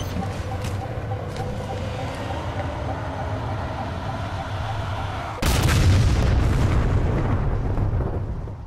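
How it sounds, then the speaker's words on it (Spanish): A Havoc nuclear bomb detonates in the Halo 4 video game: a sudden, loud, broadband blast breaks over a steady rumbling game soundscape and then roars on before slowly fading. "Logramos explotar la bomba Havoc enfrente de nuestras narices."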